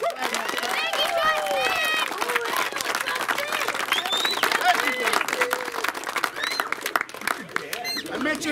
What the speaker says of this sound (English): guys, let's clap it up for Justin